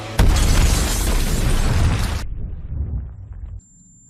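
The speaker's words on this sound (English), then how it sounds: "Des nouvelles d'une grosse explosion." Large explosion from a film scene: a loud, sustained broadband boom and roar lasting about two seconds, followed by a lower rumbling tail and debris that cuts off abruptly.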